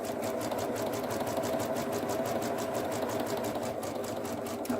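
A sewing machine runs steadily while back stitching fabric for a bunny gift bag, a fast, even mechanical rattle of needle strokes that continues close and unbroken for several seconds.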